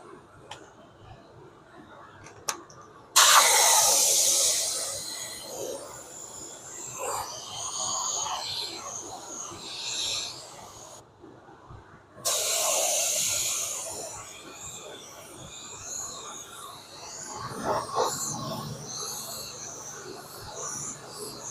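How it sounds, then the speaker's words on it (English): Spray gun applying Sonic Silver paint to a repaired Porsche wheel, two long loud hissing bursts of spray separated by short pauses, with quieter workshop noise around them. "Then we're going to paint this wheel with the Sonic Silver."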